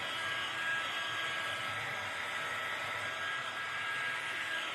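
A hair dryer blows steadily and loudly to dry paint on a holiday craft kit project, a constant even whir with no pauses and no speech.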